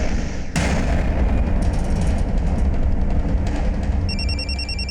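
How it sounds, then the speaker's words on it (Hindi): A telephone rings electronically near the end, preceded by a loud rumbling burst and continuous background noise. "पापा का फोन है।"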